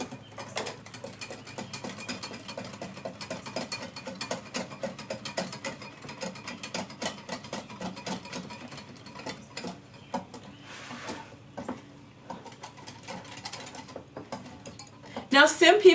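Flour is whisked briskly into a sauce for a ham and potato scallop casserole. The whisk scrapes and clicks rapidly and steadily against the pan, close and fairly quiet, with a louder burst of clatter at the very end.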